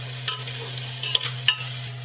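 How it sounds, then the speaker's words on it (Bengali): Spices such as turmeric, cumin and chilli powder with salt are stirred and fried in a pan. A steady close sizzle runs underneath, with a few sharp scrapes of the spoon against the pan. "সব কিছু ভালোভাবে কষিয়ে নিতে হবে।"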